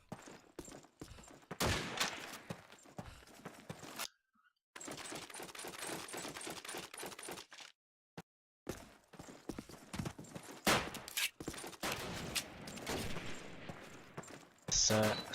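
Rapid, repeated gunfire bursts from a Call of Duty 2 competitive match on the Dawnville map, crackling almost continuously with brief gaps, while a commentator talks over the action.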